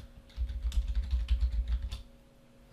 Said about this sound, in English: what I could do is just keep typing